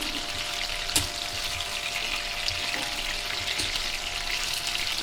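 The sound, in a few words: fish frying in a pan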